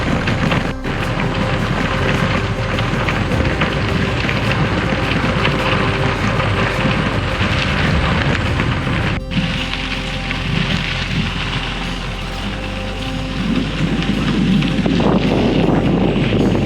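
Headwind buffeting a cyclist on the York County Heritage Rail Trail, a loud, continuous rumbling roar of wind across the microphone with gusty fluctuations throughout.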